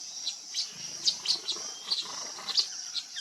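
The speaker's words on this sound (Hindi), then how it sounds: "बहुत प्यारी पक्षी होती है।" Small birds chirp in quick, bright bursts, several short high calls scattered through a few seconds, fairly close and alone with no talking.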